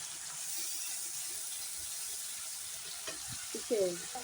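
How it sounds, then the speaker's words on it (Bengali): Tomato paste with turmeric and salt frying in a pan for a fish curry gives a steady, moderate sizzle, with a few brief utensil clinks and a short scraping stir near the end. "টমেটো পেস্ট দিয়ে ভালো করে একটু কষিয়ে নিই"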